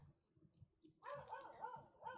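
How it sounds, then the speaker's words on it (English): A pet dog barks and yips faintly in the background, giving a couple of high, whining barks in the second half after low murmuring sounds earlier, quiet and somewhat distant. "My mom's dog's barking and it's really distracting."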